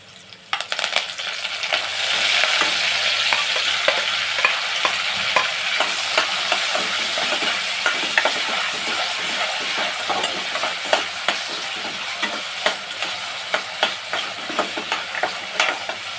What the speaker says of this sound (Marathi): त्यानंतर इथे मी कढीपत्ता टाकते, हिरवी मिरची टाकते स्लाइस केलेली आणि टॅमॅटो टाकणार आहे.